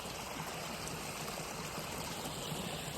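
Irrigation water flowing steadily across a farm field, a continuous broadband rush and trickle like a small stream, fairly close and unbroken throughout with no talking.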